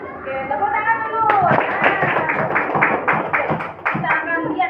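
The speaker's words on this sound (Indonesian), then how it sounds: "Oke, tepuk tangan dulu." Children in a classroom clap their hands together in a burst of close, fairly loud, uneven claps lasting a few seconds, coming right after a teacher's spoken line.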